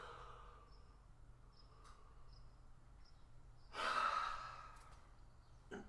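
A single long, breathy yawn swells and fades midway through a voice warm-up, with a quiet room and faint insect-like chirps behind it.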